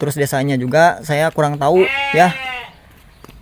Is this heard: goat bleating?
yes